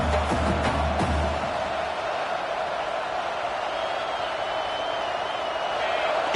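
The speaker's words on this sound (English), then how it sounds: "this crowd is fired up. Listen to this noise here." Steady, dense roar of a large crowd filling the space, loud and continuous with no clear individual voices standing out.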